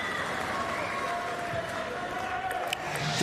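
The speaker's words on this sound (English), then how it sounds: "The crowd is starting to pick up as well" A spectator crowd at a standing para table tennis quarterfinal gives off a low, steady murmur and rustle throughout. A few faint sharp ticks sit beneath the even hum of the hall.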